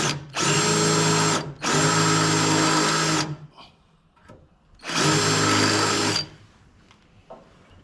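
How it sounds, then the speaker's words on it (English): A large power drill working on a 1950s M38A1 Jeep during a summer top install, whirring loud and close in three steady bursts of a few seconds each with brief quiet gaps between. "This is the big drill."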